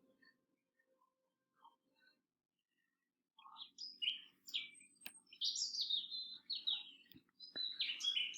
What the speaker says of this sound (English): The woods were full of the chirping, bustling, sing-song sounds of spring.